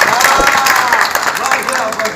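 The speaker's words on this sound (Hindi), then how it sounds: "एक बार ताली बजाओ" Live audience claps in response at a stage comedy performance of Inspector Matadin Chand Par, a dense patter of applause running steadily throughout, blended with crowd noise.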